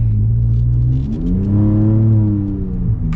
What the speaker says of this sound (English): So we're gonna get our acceleration here with the Raptor.